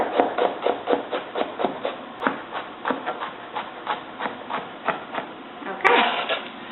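A knife slices fresh asparagus on the diagonal on a cutting board, making quick, evenly spaced close tapping chops that continue steadily for several seconds.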